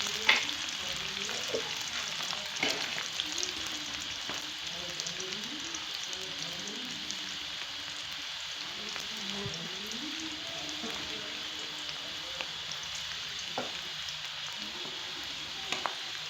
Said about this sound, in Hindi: प्याज को गोल्डन होने तक हम फ्राई करेंगे।